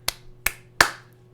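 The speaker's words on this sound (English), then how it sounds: "You hear clapping from the corner of your room." Three sharp, separate claps ring out from the corner of a room, each crisp with a short decay and evenly spaced over about a second.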